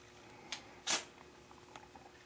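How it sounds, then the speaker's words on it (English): A fire starter snaps into the sheath of a Cold Steel Survival Edge knife, giving two short, crisp plastic clicks, the second louder, against a quiet background. "the nice thing here is you won't worry about losing that fire starter because it clicks in there pretty well"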